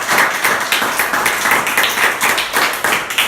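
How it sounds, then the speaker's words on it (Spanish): Applause from a church congregation during a sermon, a dense run of many hands clapping together at a steady, lively pace, loud and close, with no talking over it. "Ese aplauso sea para el Señor"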